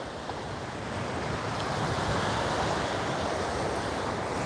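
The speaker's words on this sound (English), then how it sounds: "Hope you're enjoying some nice chill waves for a little bit." Ocean waves roll onto the shore at Cocoa Beach in a continuous, loud wash of surf, mixed with wind buffeting the microphone and no voices.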